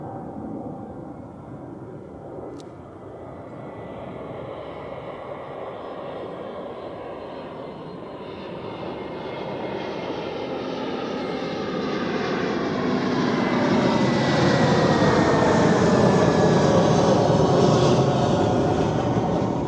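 A Finnair-style Helsinki Airbus A320 comes in to land at Zurich Airport, its jet roar swelling steadily over about twenty seconds from a distant rumble to a loud close pass with whining engine tones, no voices.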